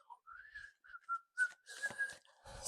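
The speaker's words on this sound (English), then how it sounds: "When you whistle while you work." A person whistles a short melodic tune, soft and close, with a few faint breathy sounds alongside the notes.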